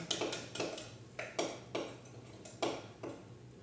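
Blondie batter stirred in a bowl, a utensil knocking against the bowl in a series of sharp, irregular clinks and taps at close range, with brief pauses between strokes.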